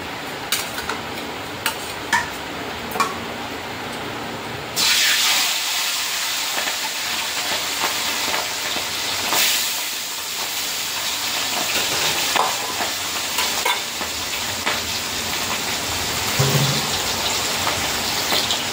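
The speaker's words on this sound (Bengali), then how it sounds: "তো মাছগুলো আজকে আগে ভেজে নিই" Hilsa fish pieces fry in a hot pan, a few light clatters giving way to a loud, steady sizzle and hiss that carries on without talk.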